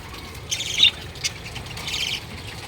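Newly hatched chicks peeping near their mother hen, a few short high chirps in brief bursts over faint background noise.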